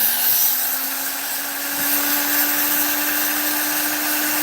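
A Dremel rotary burr whines steadily while power carving a wooden gnome house, a constant high-pitched motor tone that is close, loud and uninterrupted.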